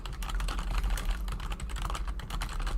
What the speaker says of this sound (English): I'm waiting for the full typing because this is suspenseful